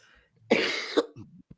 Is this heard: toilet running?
no